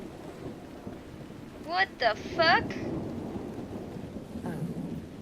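Heavy rain pours down steadily in Dragon Age Inquisition, and a few short rumbles of thunder roll through it. A man swears once over the downpour.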